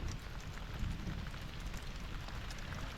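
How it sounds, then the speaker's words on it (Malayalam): Steady moderate rain hisses down evenly during a fishing trip for red snapper in the mangroves, a continuous wash of drops with no voices. "അത്യാവശ്യം നല്ല രീതിയിൽ മഴയുണ്ട്"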